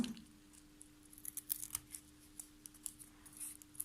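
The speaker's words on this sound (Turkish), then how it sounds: "Kalan kağıtları şöyle kesiyorum." Quiet, repeated snips of scissors cutting paper in an irregular rhythm, close by, over a low steady hum.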